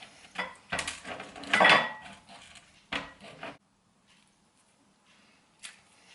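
A knife slices an avocado in half at home, with several close scraping cuts and knocks on a board in the first three and a half seconds, then near silence with one faint tap.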